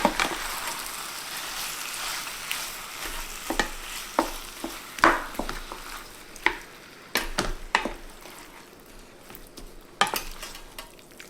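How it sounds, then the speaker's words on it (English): Steak fajitas for a keto meal sizzle steadily in a hot pan as seasoning is stirred in, with repeated scraping and clacking of a utensil against the pan, loud and close. "Alright, let's stir that in here."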